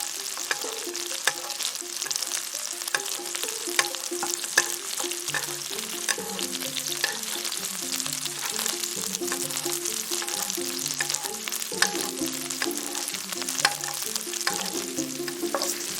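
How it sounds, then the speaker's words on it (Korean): Pork belly sizzling in a pan while being basted with garlic butter, a loud continuous close sizzle with repeated spoon scrapes and splashes of butter, no voices. "마늘 향이 스며 버터를 끼얹어 줍니다"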